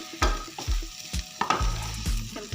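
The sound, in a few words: milk halwa being stirred and roasted in a pan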